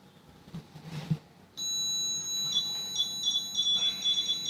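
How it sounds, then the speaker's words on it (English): A REM pod ghost-hunting device in a haunted church breaks into a continuous high-pitched electronic beeping tone after a moment of faint background noise. "It's a REM pod"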